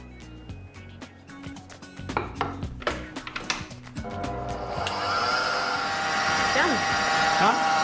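Brown sugar being mixed into whipped eggs for brownie batter, first as a run of sharp knocks and clatters from the bowl, then a steady whirring mixer drone.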